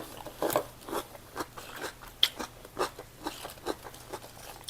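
Close, rhythmic crunching as a crisp, sweet raw vegetable is bitten and chewed during a meal of shrimp-paste chili dip with boiled vegetables, steady moderate chews recurring about every half second, no speech.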